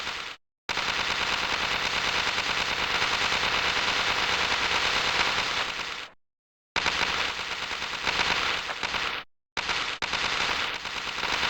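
Rapid automatic gunfire from a hockey-league video game session, loud and sustained in long continuous bursts broken by two brief silent gaps, with no talking over it.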